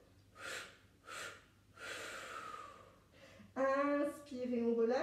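Breath is drawn in and let out during a Pilates exercise, several soft, airy breaths in sequence, close and fairly quiet, followed by a voice speaking at the end.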